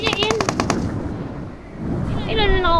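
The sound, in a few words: gunfire in video game PUBG Mobile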